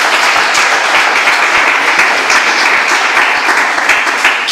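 A church congregation applauds and cheers in praise of the Lord, a dense, sustained wash of clapping from many hands filling the room without pause.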